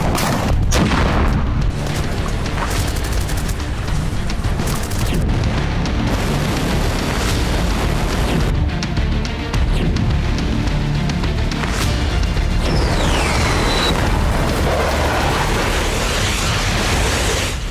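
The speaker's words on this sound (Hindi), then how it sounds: "हवा से ताबड़तोड़ बमबारी," Heavy bombing in war footage rolls on as continuous deep booming blasts and rumbling explosions, loud and dense throughout with no pause.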